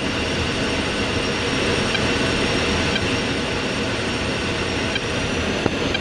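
Jet aircraft engines in the DCS World flight simulator roar during a takeoff roll, producing a loud, steady, broadband rumble and hiss that holds without letup.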